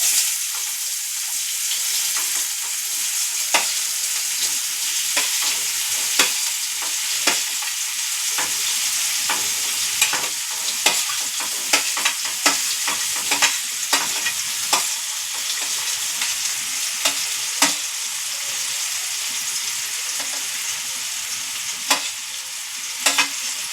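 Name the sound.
onions frying and being stirred in oil in a pan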